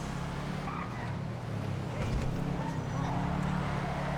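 A white Karin Subaru Brat pulls away from the Ellis Car Meet in Grand Theft Auto Online, its steady low engine drone running throughout at moderate level and swelling slightly midway, with faint background clutter.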